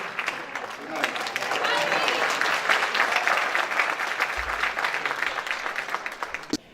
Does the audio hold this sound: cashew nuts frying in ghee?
no